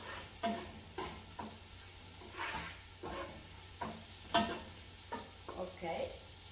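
Garlic frying in already hot oil for fried rice, a soft sizzle broken by repeated light taps and scrapes of a utensil at an uneven rhythm, fairly quiet.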